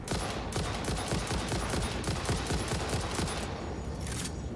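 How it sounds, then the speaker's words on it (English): Rapid automatic gunfire from the video game Satisfactory rattles on continuously as a dense burst of sharp shots, loud and close, with no talk over it. "I'll shoot him now before I go down there before he gives me an issue."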